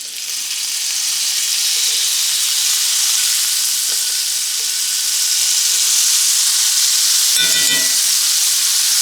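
Butter and garlic sizzling loudly in a frying pan, a steady close hiss of frying with a brief clatter near the end and no talking.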